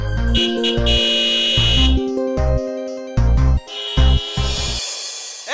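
A vehicle's horn blares loudly and close in a series of uneven blasts, some long and some short, with brief gaps between them.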